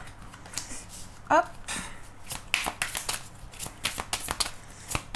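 Tarot cards being shuffled by hand produce a run of crisp riffling and slapping bursts in an uneven rhythm, close up, with a brief spoken word partway through.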